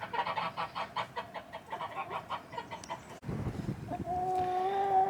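Geese and chickens honk and cluck repeatedly in a farm nesting-box area in Portugal, a steady run of loud calls that gives way to lower scuffling and a sustained near honk toward the end.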